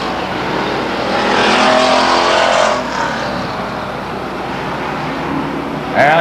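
At Stockton 99 Speedway, racing cars sweep by in a loud roaring surge that peaks and recedes, followed by a steady background howl of engines circling the track.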